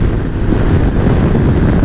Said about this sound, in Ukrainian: Вітер такий, що страшний.